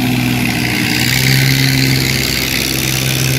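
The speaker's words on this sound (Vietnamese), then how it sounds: "Đây các mọi người xem nha, ở chiếc ghe lúa đó." A passing rice boat (ghe lúa) on a Mekong delta canal, its mid-pitched motor droning steadily and loudly with a constant hum, no voices.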